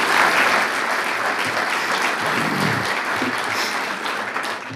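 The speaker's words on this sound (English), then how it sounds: "Would you give them another round of applause?" Applause from an audience at a city State of the City gathering, full steady clapping that stays strong throughout before easing slightly toward the close.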